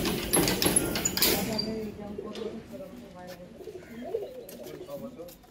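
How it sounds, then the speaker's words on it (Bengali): Pigeons in a breeding room where most birds sit on eggs, with soft cooing and scattered bird calls running through the clip under a noisy start with people talking nearby. "এই যে দাদার আরও কিছু পায়রা সবই ডিমে রয়েছে, এগুলো ব্রিডিং রুম"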